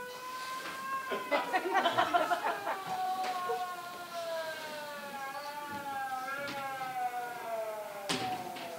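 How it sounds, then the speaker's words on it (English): A wailing siren rises and falls in the distance, its long gliding tone persisting steadily under faint background noise. "What's the fifth siren in the last hour?"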